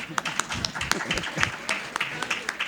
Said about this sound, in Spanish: Un aplauso para Luciana.